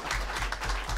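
A television studio audience applauds Omar Sharif after he receives the city of Marseille medal, giving a brief, steady wash of clapping that sounds soft and somewhat muffled.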